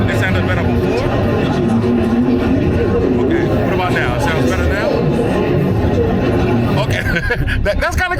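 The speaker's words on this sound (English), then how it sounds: "now I just played some sound like if I'm in a loud cafeteria" Dense cafeteria crowd babble played back through earbuds, many overlapping voices and clatter, loud and continuous.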